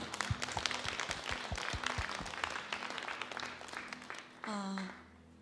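Church congregation applause in praise during a Sunday service, scattered claps over low instrumental tones, fading before a voice speaks briefly at the end.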